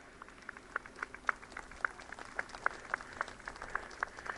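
Thin, scattered clapping from a small crowd at a stock car speedway, with distinct individual claps sounding over a quiet background hum.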